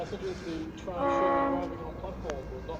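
A V/Line N class diesel locomotive train approaches near Geelong with a rumbling engine, and a horn sounds in a rising, sustained blast at mid-distance before fading, over steady background noise.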